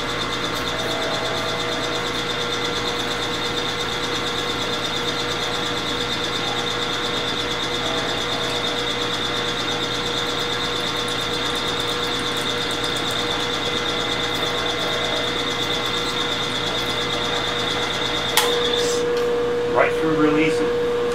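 Drill press running steadily as it bores through aluminum lubricated with WD-40, a constant motor whine and drone throughout, with a few clanks near the end.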